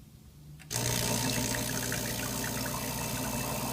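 Repaired Ulka EP5 vibratory pump in a Rancilio Silvia espresso machine kicks on after a brief quiet moment, then drones with a loud, steady buzzing hum as it pushes water, continuing unbroken to the end.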